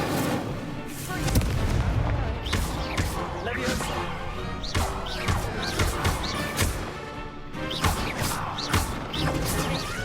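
A fire spell cast during a duel in the video game Hogwarts Legacy bursts out as loud, crackling magical blasts and booming impacts over a busy game soundtrack, with repeated hits throughout.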